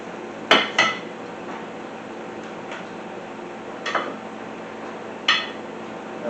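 A serving utensil clinks and scrapes against a baking dish while scooping chicken cordon bleu casserole, with a few sharp taps spaced a second or more apart over a quiet kitchen background, close by and with no talk.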